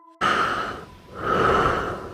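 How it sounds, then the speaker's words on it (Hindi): Heavy breathing heard over a phone line for a horror story effect: two loud, rasping breaths, an inhale then an exhale, with a short quieter gap between them and no talking. "लेकिन दूसरी तरफ से सिर्फ भारी सांसों की आवाज आ रही थी।"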